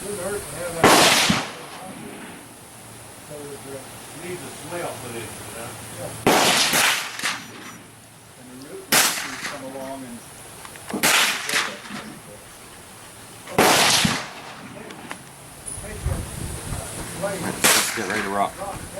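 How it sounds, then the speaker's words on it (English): An FN FNAR semi-automatic rifle fires single shots, about seven sharp, loud cracks spaced a few seconds apart on an outdoor range at 100 meters, with quiet talk between some shots. "I'm going to go and shoot some groups on the left-hand targets with different ammo"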